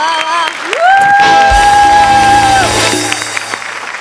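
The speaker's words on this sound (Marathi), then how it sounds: "मी उभा राहून एकदा टाळ्या वाजवतो जोरदार" Audience applause and cheering at a Marathi comedy show fill the room, rising under a long sung or held vocal note and continuing steadily to the end.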